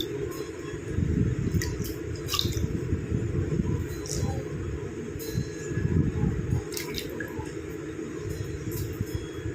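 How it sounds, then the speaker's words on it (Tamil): A face is washed by hand with water, giving continuous close splashing and wet rubbing with small drips and clinks throughout. No talking. "தண்ணி விட்டே கழுவி காட்டிடுறேன்."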